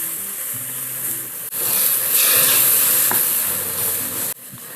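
Banana flower stirred and sautéed in a hot pan sizzles steadily, with scraping stir strokes and a loud, close frying hiss that briefly breaks and resumes.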